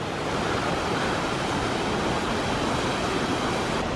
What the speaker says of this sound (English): And here's the Lower Falls.